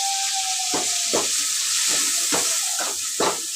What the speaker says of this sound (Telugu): ఇవన్నీ కొంచెం నూనెలో మగ్గాలి ఒక రెండు నిమిషాలు